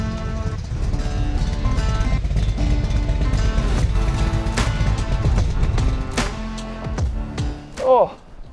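A classic sports car engine, from a Porsche 911/930 Turbo or De Tomaso Pantera, roars steadily and loud at a test track, with a rising rev near the end; no one talks over it.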